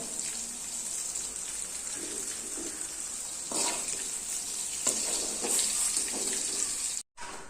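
Raw mango pieces fry in oil with a continuous close sizzle, rising into stronger bursts of crackling midway as more pieces go in, then a brief cutout near the end.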